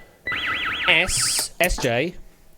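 Electronic game-show sounds: a warbling tone followed by a buzzer-like blast and quick sweeping electronic effects, loud and close.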